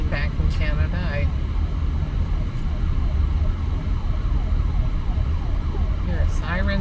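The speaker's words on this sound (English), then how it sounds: "hear a siren, don't know where it's coming from." A wailing siren rises and falls continuously through steady road and engine rumble on a drive in Canada between Paul Lake and Valemount, with a person talking over it.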